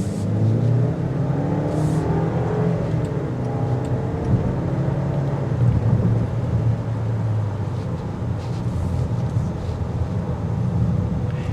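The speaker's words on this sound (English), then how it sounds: "You're gonna hear the engine whenever you're getting on it" A 2024 Land Rover Discovery Dynamic SE engine revs under acceleration, a steady, fairly loud drone whose pitch climbs as the vehicle gathers speed, heard from inside the cabin.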